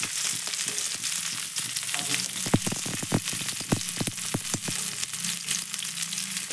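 Onion fries in hot oil in a kadai, a continuous sizzle broken by frequent sharp crackles and pops, close and fairly loud with no talking.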